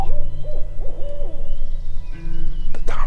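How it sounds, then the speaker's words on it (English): An owl hoots outdoors on an early-morning turkey hunt, several loud, close hoots in an uneven series, later joined by other brief calls and a sharp sound at the end, with no talking. "We got an owl behind us."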